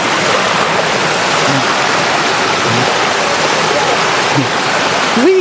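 River water rushing down from a mountain, a loud, steady close-up roar of flowing current with faint voices under it and a brief vocal sound near the end.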